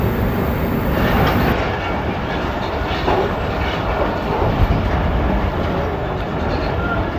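The Pakistan Express, departing Rawalpindi railway station, runs along the rails as a loud, continuous rumble with clickety-clack wheel noise, heard from on board.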